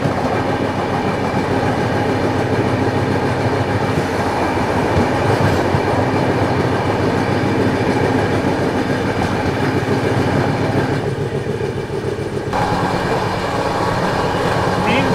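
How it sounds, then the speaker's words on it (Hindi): Tirupati Jammu Humsafar Express rolling steadily past Baroda station without stopping, wheels clattering rhythmically over rail joints in a continuous loud rumble with faint voices in the coach. "फिलहाल अपनी ट्रेन बड़ौदा स्टेशन को स्किप कर रही है।"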